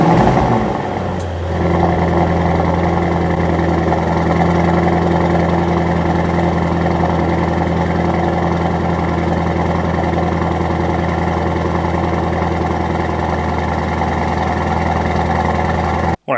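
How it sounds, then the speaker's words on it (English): 2023 Mercedes SL 63 AMG V8 exhaust starts up and holds a deep, steady burbling idle with slight rises in revs, loud and close, continuing for the whole stretch with no talking. "now let's listen to the exhaust sound of the SL63"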